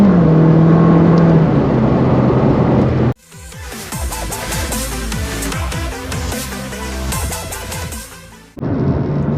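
A McLaren 600LT APEX Collection sports car accelerates hard and loud through several gear changes, its engine roaring with a sharp shift near the middle before settling into a steady drone.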